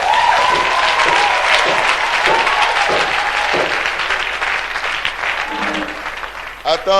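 A church congregation claps loudly and continuously, dense applause with rhythmic claps early on, fading slightly near the end as voices join.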